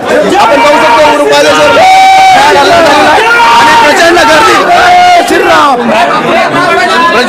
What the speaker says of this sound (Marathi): प्रचंड गर्दी या ठिकाणी आपल्याला झालेली पाहायला मिळते